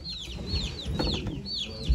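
An Indian rooster clucks in short, repeated chirping calls at a busy poultry auction in Ankara, close and fairly clear over a murmuring crowd.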